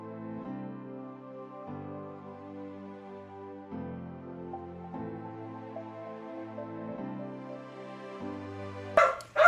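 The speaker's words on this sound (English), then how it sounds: "I apologize for the dog barking there." A dog indoors gives a series of drawn-out, muffled barks and whining yelps in an evenly spaced rhythm, fairly quiet and distant-sounding, ending with a brief sharp noise.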